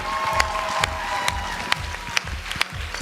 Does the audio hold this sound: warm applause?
yes